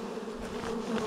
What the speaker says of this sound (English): We got a lot of bees down here on the ground